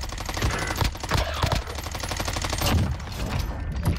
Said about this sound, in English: I heard some more shots over this way